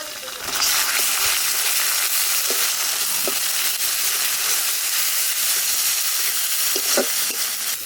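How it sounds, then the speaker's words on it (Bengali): Onion, garlic, ginger and green chilli paste frying in hot oil for a desi chicken curry, a loud steady sizzle and hiss close up with occasional spoon scrapes, no talking over it. "আদা রসুন কাঁচা লঙ্কাটা ভালো করে ভেজে নিতে হবে"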